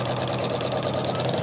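A sewing machine fitted with a walking foot runs continuously while quilting wavy lines, giving a steady, fast mechanical whirr with a rapid rhythmic chatter, close and fairly loud, with no talking.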